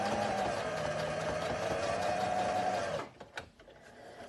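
Sewing machine running a steady stitch along a fabric face mask seam for about three seconds, a continuous close motor whir, then stopping, followed by faint handling clicks.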